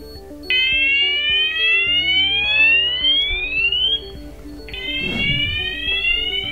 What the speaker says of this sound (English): So we'll trigger Fire Level 1 now.